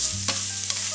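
Seasoned chicken with garlic, salt and pepper frying in a pan, a close, steady sizzle with two quick scraping stirs in under a second.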